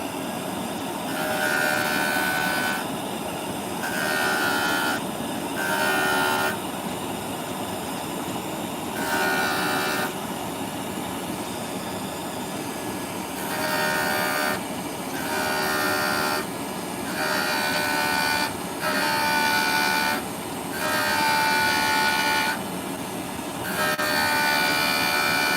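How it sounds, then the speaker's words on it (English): A vacuum runs during faceting of a cabochon on a Jooltool, a loud, steady broadband rush throughout with bright tones swelling and fading in a rough repeating pattern. "Let me put the vacuum on."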